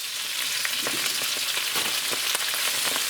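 Fresh spinach hitting a hot pan and frying, a steady bright sizzle with small crackles and pops, close and continuous with no talking.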